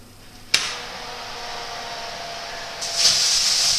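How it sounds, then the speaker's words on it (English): A sudden sharp hiss bursts out as boiling water is poured into a hot oven tray before baking bread, settling into a steady sizzling steam, then a louder hissing surge near the end. "I shall add in a cup of boiling water into a tray that's already been in there."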